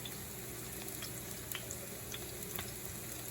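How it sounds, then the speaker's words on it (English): Garlic and fresh basil leaves frying in a pan for a crab-stuffed calamari marinara, a quiet steady sizzle with faint crackling pops, close and alone without talk. "Garlic in there. All right. Let that fry up."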